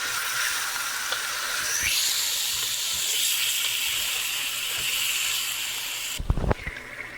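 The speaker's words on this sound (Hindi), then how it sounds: "तो अच्छी तरह से फ्राई कर लें अनियन के साथ" Chicken fries with onions in a hot pan, giving a steady, fairly loud sizzling hiss throughout, with a couple of brief clanks near the end and no speech.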